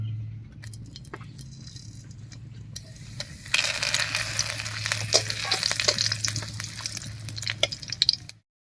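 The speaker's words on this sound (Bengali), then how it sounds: "আর ফোড়ন দেব গোটা জিরা, দুটো শুকনো লঙ্কা আর একটা তেজপাতা দিয়ে।" Whole cumin, two dry red chillies and a bay leaf hit hot mustard oil for a Bengali ash gourd ghonto, first a quiet low hum, then a sudden loud steady sizzle with scattered crackles and pops, close and alone with no talking.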